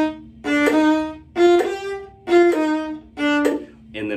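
A viola plays four short groups of notes from a Wohlfahrt etude, each a longer note followed by a quick short one, separated by brief pauses.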